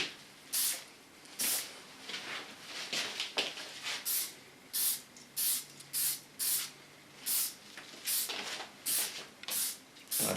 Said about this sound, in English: So now I just need a little more spray, not too much. Just lay it over the hair.